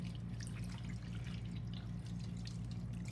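Tap water runs steadily into a sink as soap is rinsed off hands, a continuous low wash of flowing water with faint dripping, fairly quiet and without talk.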